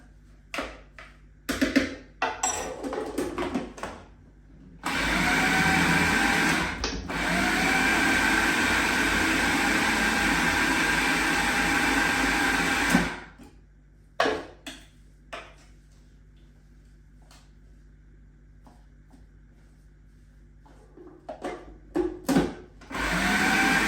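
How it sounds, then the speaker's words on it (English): A kitchen blender purees smoked coley fish cake mixture in two loud, steady bursts of whirring motor noise, the second one long. Between and after the bursts come clatters and knocks of the jug being shaken and handled. "Blend it down, and you might have to just agitate it a little bit in the blender"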